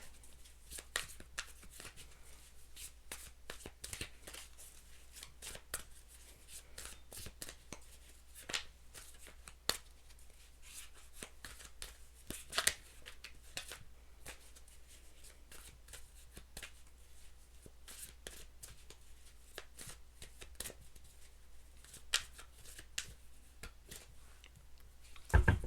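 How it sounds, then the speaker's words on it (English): Quiet, steady card shuffling goes on throughout, soft riffles and flutters broken by occasional sharper snaps of the deck. "I'm having a hard time shuffling."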